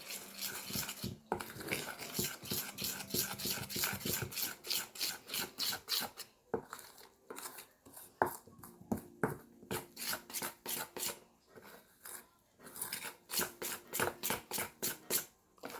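Thick sourdough starter being mixed in a jar, a quick run of rhythmic scraping, slapping strokes with brief pauses between bursts, close and fairly faint, with no talk.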